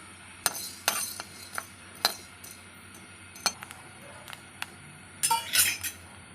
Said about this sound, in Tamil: நல்லா பொரியிற சத்தம் கேட்குது